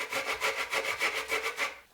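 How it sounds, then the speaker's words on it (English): Fresh ginger rasps across a grater in quick, even back-and-forth strokes, about a dozen close scratchy passes in a steady rhythm. "we are going to grate some fresh ginger."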